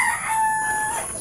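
A labuyo, a wild junglefowl rooster kept on a farm, crows once, close and clear, a short shrill call with a rising then sliding pitch over faint background hiss.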